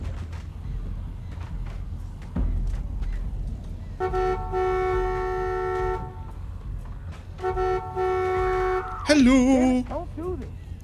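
Car horn in the video game The Walking Dead: Season 2 blares in two long, steady honks separated by a short gap, loud and near, followed by a brief warbling sound.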